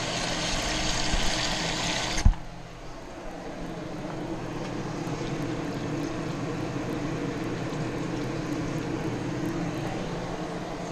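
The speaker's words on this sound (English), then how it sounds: "Yeah, we'll go ahead and add some water." Water poured into a simmering pot of 15-bean Cajun sausage, kale and rice soup: a loud, steady rushing pour that cuts off sharply after about two seconds, leaving a lower continuous hum.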